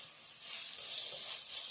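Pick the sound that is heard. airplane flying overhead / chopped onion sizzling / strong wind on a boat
chopped onion sizzling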